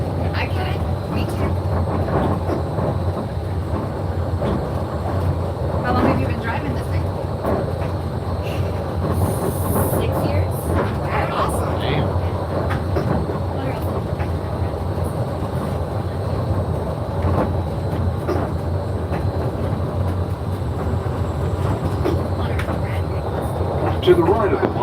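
Disneyland train rolling alongside the monorail, a steady low rumble of railcars with faint clatter of wheels throughout, voices talking over it.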